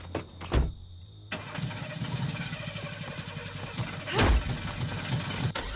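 A car engine in the Friday the 13th video game cranks over after a couple of sharp clicks, catches and then settles into a steady, loud idle, with another burst of revving about four seconds in.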